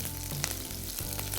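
Tempering of dried red chillies, mustard seeds, cumin, fenugreek and curry leaves sizzling in hot oil, a close, steady crackling fry with small pops throughout.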